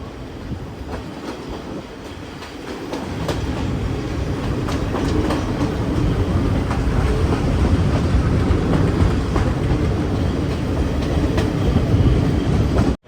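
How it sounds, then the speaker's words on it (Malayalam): Sri Lankan passenger train approaching Rambukkana station, heard from on board: a soft rolling hum that swells after a few seconds into louder, continuous wheel rumble and clickety-clack over the rails. "ട്രെയിൻ ഇപ്പം റംബൂക്കാന സ്റ്റേഷനിലേക്ക് എത്തിയിരിക്കുകയാണ്"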